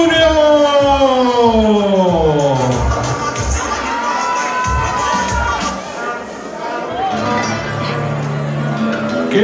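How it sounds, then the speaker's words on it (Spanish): Arena crowd at a lucha libre semifinal bout cheering and applauding loudly as the wrestlers enter, a dense sustained roar with a long tonal wail like a siren or horn sweeping through the first seconds, an announcer's voice running over it. "En esta noche lo recibimos con un fuerte aplauso"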